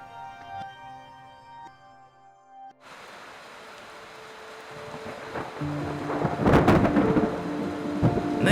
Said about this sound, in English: this lightning storm was fierce